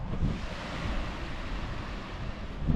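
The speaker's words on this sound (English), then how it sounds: "the sound of the ocean or the sea lapping on the shore" Sea waves washing steadily against the shore on Corfu in a continuous broad rush, with wind buffeting the microphone.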